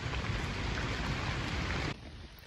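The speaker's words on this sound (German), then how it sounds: "Der Herbstregen ist stärker geworden, aber das macht überhaupt nichts." Heavy autumn rain falls in a forest as a dense, steady hiss of drops that drops slightly in level near the end and continues without any voices.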